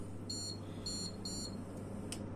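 An electric hob beeps when switched on, giving three short high-pitched electronic beeps in quick succession over a low steady hum, fairly faint and with no talking.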